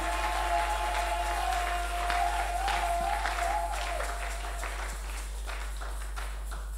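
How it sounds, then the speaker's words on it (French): A church congregation applauds in a soft, scattered patter that thins out toward the end, heard at a distance over a steady low hum and a faint sustained tone. "Nous applaudissons sans conviction."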